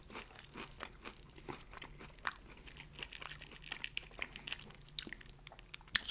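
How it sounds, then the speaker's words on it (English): Crunchy fried chicken is chewed close up in quick, irregular crisp crunches and crackles, a steady run of bites and chomps at low volume with no talking. "This chicken is very crunchy"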